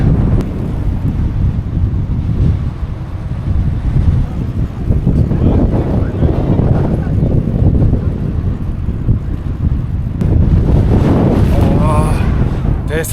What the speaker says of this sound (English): another day of headwind blasting into my face